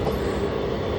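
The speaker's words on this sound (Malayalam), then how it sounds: "സ്റ്റേഷനിൽ എൻട്രി ചെയ്യുന്ന ട്രെയിനിൽ തന്നെ ഭയങ്കര വേഗതയാണ്" Train heading into a station at high speed on the Punalur–Madurai express route, a steady close rumble of rolling carriages, brief and moderately loud.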